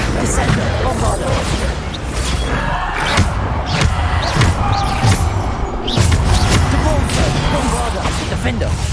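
Bombarda blast spells in the video game Hogwarts Legacy, a string of loud booming thuds and crashes repeating every second or so amid constant dense game noise, with speech underneath.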